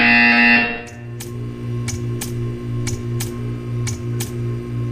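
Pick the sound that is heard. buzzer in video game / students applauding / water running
buzzer in video game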